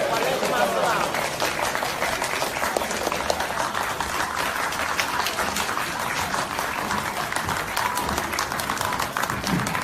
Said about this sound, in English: Get on your feet and give them a round of applause.